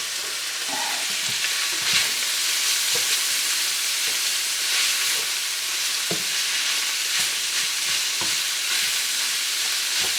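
Hamburger meat frying in a skillet and being chopped small with a spatula for a stuffed bell pepper casserole: a loud continuous sizzle with repeated scraping and tapping strokes close up, with no talking.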